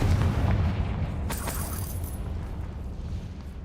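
A Confringo spell blast in Hogwarts Legacy bursts out about a second in as a bright crackling explosion over a steady rumbling low boom, then its sharp top fades while the rumble lingers.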